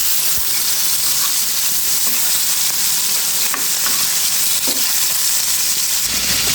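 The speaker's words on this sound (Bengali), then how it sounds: "মাছটা একটা পাশ ভাজা হয়ে গেছে বন্ধুরা, আমি একটু উল্টে নিচ্ছি" Hilsa fish sizzles and spatters in hot oil, a loud continuous frying hiss with occasional pops, close up and with no talking.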